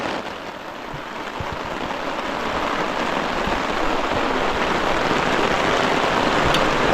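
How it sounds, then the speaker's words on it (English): Heavy rain drums steadily on an inflatable tent during a mountain camping trip, a dense, continuous hiss that holds loud and close throughout with no voices. "Coming down pretty heavy."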